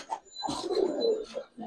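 Pigeons coo in a short burst of low, throaty, rolling calls with a faint chirp and a thin background whine. The sound is close and fairly quiet.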